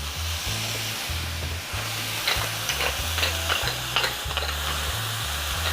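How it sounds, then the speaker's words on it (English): Vegetables sautéing with smoked pork in a pan, a continuous close sizzle with occasional scraping stirs and a low steady hum underneath. "all we're doing is sauteing vegetables and dumping the rest in"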